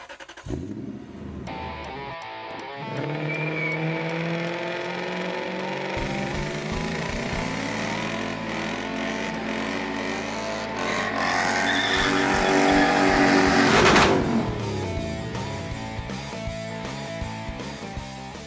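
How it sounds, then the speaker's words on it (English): A Ford Focus project car with a twin-turbo V8 accelerates up through the gears on a driveway, its loud engine note climbing and dropping with each shift, then revving hard before easing off. "We're going to go up and down the drive to see if everything works, see if I can get it up through as many gears as I can"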